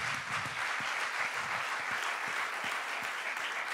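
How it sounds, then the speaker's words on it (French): A festival audience applauds the volunteer team, a loud, continuous round of clapping with sharp individual claps standing out close by over the dense crowd. "je voudrais qu'on les applaudisse tous très fort d'abord"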